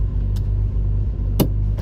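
A Jaguar E-Type Reborn engine runs close and loud with a deep, steady rumbling idle, broken by a few sharp clicks or knocks, with no talking.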